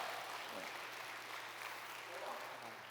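A church congregation applauds in welcome after a prayer, a steady, full wash of clapping that holds evenly for the whole three seconds.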